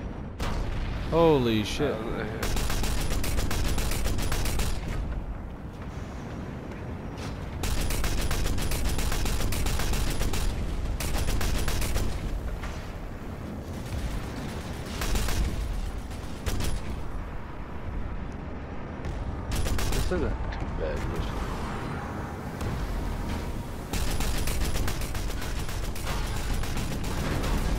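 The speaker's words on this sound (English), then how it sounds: "what are we getting shot at?" Gunfire aimed at the player in the online shooter PlanetSide 2, a dense, loud barrage of shots and booming impacts running throughout, with excited voices talking over it.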